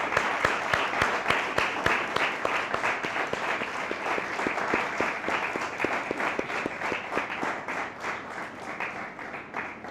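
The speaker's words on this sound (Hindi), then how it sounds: "मैं चाहता हूं कि हम खुदावंद पाक खुदा के नाम को खराज तहसीन पेश करने के लिए ज़ोरदार तालियां मारें।" A church congregation at a Sunday pastoral service claps vigorously in praise of God, a loud, close and steady roar of hands with some rhythmic unison beats before it slowly tapers.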